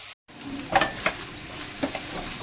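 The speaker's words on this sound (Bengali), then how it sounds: "পেঁয়াজটা একটু লাল লাল করে ভেজে নিয়ে আলু কেটে দিয়ে দিয়েছি" Potatoes and onion fry in hot mustard oil in a wok, a steady sizzle broken by a few sharp scrapes and clinks of a spoon stirring against the metal.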